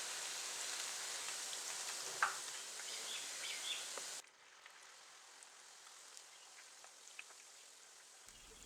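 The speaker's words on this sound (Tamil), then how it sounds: "மீதி இருக்க மஷ்ரூம் இதே மாதிரி ஃப்ரை பண்ணி எடுத்துக்கலாம்" Mushrooms fry in oil in a pan for roadside-style masala, giving a steady close sizzle. Midway the sizzle drops to a quieter, thinner crackle with scattered pops.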